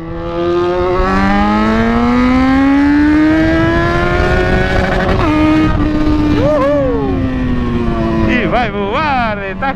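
A small motorbike accelerates on a city avenue in Higienópolis. Its engine whine climbs and holds loud and close, then dips and surges again while someone talks over it.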